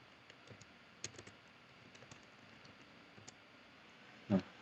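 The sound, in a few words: typing a Linux command on a computer keyboard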